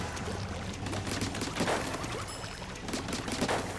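A weapon in Splatoon 3 fires at practice targets with a wet, splattering rush of repeated bursts, loud and continuous with a few stronger pulses, no voices over it.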